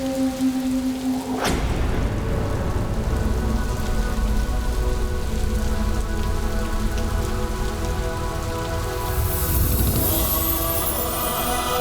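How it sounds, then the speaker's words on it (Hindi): Heavy rain pours down in a loud, constant patter, with a sharp crack early on like a thunderclap, then an unbroken drumming downpour carrying faint rumbling underneath. "वर्षा"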